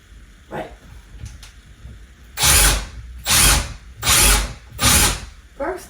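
A power drill biting into an old wooden armoire, running in four loud, close bursts of roughly half a second each after quieter handling noises.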